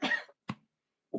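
A woman coughs three times, close and fairly quiet, in short separate bursts with brief silences between them.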